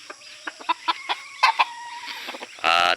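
Red junglefowl rooster clucking in a string of short, sharp calls at close range, ending in a louder, harsher burst; a game fowl from a Philippine backyard flock, with no voices heard.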